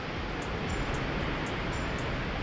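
Wallaman Falls, a tall waterfall in tropical far north Queensland, roars as a dense, steady rush of falling water that fills the whole clip, with faint periodic high clicks over it.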